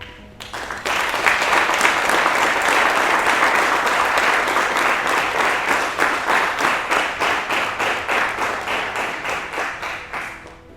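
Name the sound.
graduates applauding their instructors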